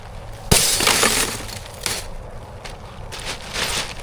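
Glass from an old TV set shatters with one sharp, loud crash, then fragments keep crackling and tinkling, with further bursts of breaking glass close by.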